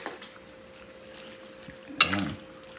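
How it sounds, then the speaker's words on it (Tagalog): Jackfruit simmering in freshly pressed coconut milk in a pot is stirred with a brief scraping clatter of utensil against metal, set over a steady low kitchen hum. "So ngayon pwede nating haluin yan."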